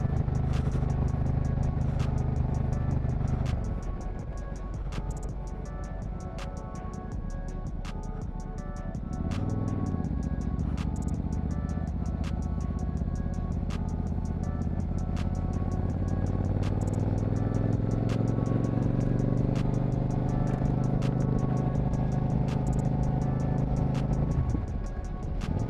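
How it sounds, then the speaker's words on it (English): Road traffic passes around a rider on a motorcycle on a busy highway, steady engine drone and wind rumble with vehicles swelling and fading by, and brief low pitch shifts as the bike's engine changes speed. "There seems to be a lot more traffic today than usual."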